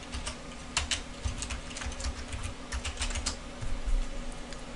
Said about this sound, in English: I click Ctrl Alt S and type